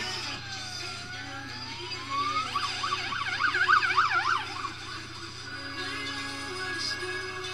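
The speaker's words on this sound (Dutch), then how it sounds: "Hier is de ambulance." An ambulance siren wails at a distance, sweeping up then switching to a fast warbling yelp before settling, over steady traffic hum.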